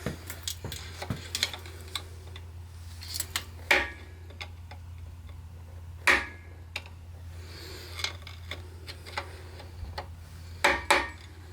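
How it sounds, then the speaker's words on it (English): Sharp metallic taps and knocks ring out irregularly as parts are hammered onto a Ford 4000 tractor engine's bottom end during oil pump and balancer installation, a few louder strikes standing out over a steady low hum, with no talking. "Just hammer these guys nice and tight."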